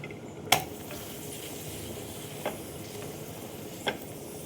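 Paratha frying in oil in a pan at breakfast time gives a steady, soft sizzle, with a few sharp clinks or scrapes from a spatula punctuating the hiss.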